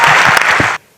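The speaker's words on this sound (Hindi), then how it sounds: "मुझे बैठ के पढ़ने के लिए एक ताली बजा दीजिए एक बार" A poetry recital audience claps loudly when the poet asks, with a dense burst of applause that stops abruptly just before the end.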